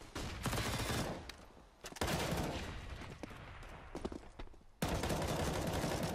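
Rapid rifle fire in a Counter-Strike esports match on the Train map, NiP versus Virtus.Pro: loud, dense bursts of gunshots separated by short gaps, with a few sharp single cracks.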